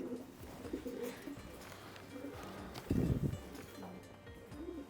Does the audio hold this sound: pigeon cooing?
yes